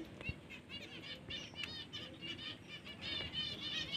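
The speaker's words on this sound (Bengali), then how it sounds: "পায়রা হাতে থাকছে না খুব ছটফট করছে" A restless pigeon held in the hand flutters and flaps its wings in repeated bursts close by, busy throughout, with faint chirps mixed in.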